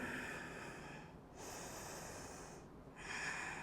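Slow, deep breathing in a yoga forward fold gives long airy inhales and exhales close to the mic, in two or three steady cycles.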